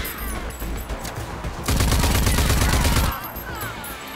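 Dense automatic gunfire in the Rage 2 video game, a sustained rattling barrage that swells louder midway before easing back into continued shooting and rumbling background noise.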